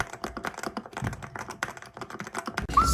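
Rapid, uneven tapping of keys on a computer keyboard, close and fairly quiet, with no voices.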